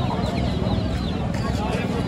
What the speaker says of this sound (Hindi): ये सब मुर्गे हैं दोस्तों, देसी मुर्गे।